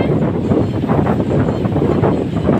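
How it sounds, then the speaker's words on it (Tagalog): Strong wind buffets the microphone outdoors in a loud, rumbling roar that surges and gusts without a break, with no other distinct sounds coming through. "Dili lang maklaro pero kusok ang hangin."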